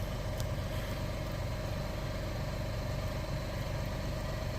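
A car engine idles steadily outdoors during a Connecticut snowstorm, a continuous low rumble with an even hum and no changes in pitch, heard alone.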